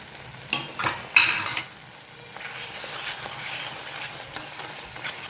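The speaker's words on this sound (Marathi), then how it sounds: "आता हा मसाला थोडासा परतला की ही अंडी आपण ॲड करून घेऊ" Egg masala with kasuri methi sautéing in a pan for an egg masala curry, a steady close sizzle with several sharp scraping stirs of a spoon, no voices.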